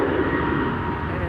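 A KLM or Transavia Airbus A321neo passing at Amsterdam Schiphol Airport gives a steady, loud, broadband engine roar that fills the whole moment without change, with no voices over it.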